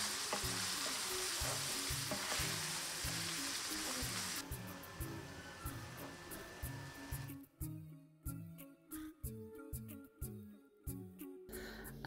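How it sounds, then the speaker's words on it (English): Minced keema frying with chopped onions in a pan, a steady close sizzle with rhythmic stirring and scraping of the spatula, the sizzle easing partway through. "I just cooked the mince till it's brown, added in some chopped onions or two medium onions."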